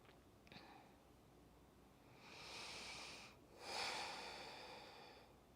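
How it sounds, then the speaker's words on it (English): Slow, deep breaths taken during a guided breathing exercise, a long soft inhale followed by a fuller, louder exhale, close and airy with no talking over it. "We'll take 5 more breaths here."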